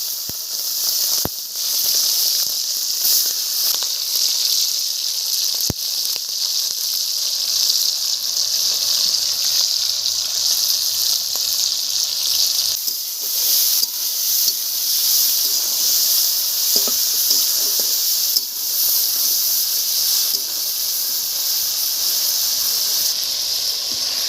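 Cooking oil heats in a pan before prawns are fried for a yam-and-prawn curry, giving a continuous hiss with faint crackles and a few sharp pops.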